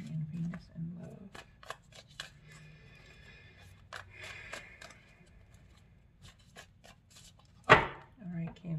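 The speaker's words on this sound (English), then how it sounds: "My cards didn't shuffle really sloppy" Tarot cards being shuffled by hand in loose, uneven bursts of riffling and rubbing, close and fairly quiet, with a sharper card slap near the end and some soft speech around it.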